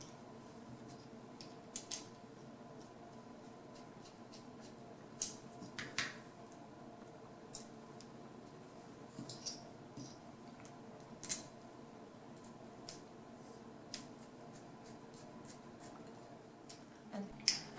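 Small nuts and bolts are fitted onto an epee fencing bodycord, heard as sparse, faint metallic clicks and ticks scattered over a quiet background.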